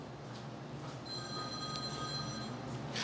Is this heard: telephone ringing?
yes